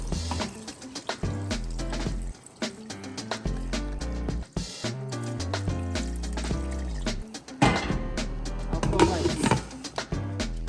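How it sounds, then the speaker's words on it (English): Water poured into a pot of cooking meat for egusi soup, a steady close liquid filling sound that shifts in pitch as the pot fills, with no talking over it. "I will add water to it."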